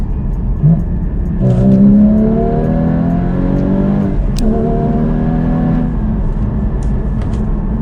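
A Porsche GT4 engine revs hard in sport mode through rising pitch sweeps, dropping briefly between gear changes before climbing again, loud and close.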